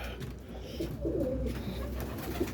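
Pigeons cooing inside a coop, soft low coos close by over a steady background hum.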